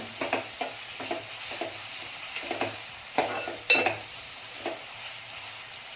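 Chopped onion with a green chili frying until soft for pav bhaji, a soft steady sizzle broken by scraping spatula strokes in the pan, fairly quiet and close, with no talk.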